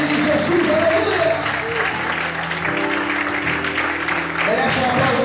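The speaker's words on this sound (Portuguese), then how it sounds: "abre a tua boca, glorifica o Senhor e aplaude bem forte a Ele nessa noite" A church congregation claps and praises loudly during an evening service, a continuous, full-room roar of applause and cheering voices mixed with sustained organ or keyboard tones.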